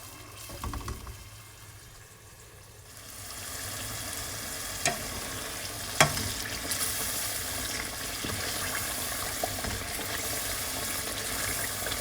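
Onions sizzling and frying in a pan, a steady crackling hiss that swells after a few seconds, with a couple of sharp clinks.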